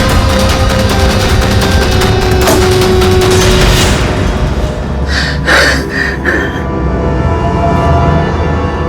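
Gunfire in a TV crime-drama scene at a house: loud, noisy commotion gives way to a quick cluster of sharp shots close together near the end.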